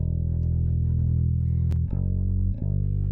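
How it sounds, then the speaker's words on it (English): A bass guitar run through an audio plugin gives a steady, heavy low drone with a pumping effect and a couple of brief dips in level. "I am hearing some like pumping"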